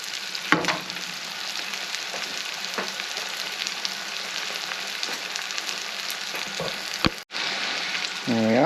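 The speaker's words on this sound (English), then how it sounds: "I'm going to drop them in here, get the sauce in, and just do one final mix" Noodles and sauce sizzle and hiss on a hot grill while being stirred for an Asian-inspired chicken noodle dish, a steady close frying sound with a few scraping clicks and a brief break near the end.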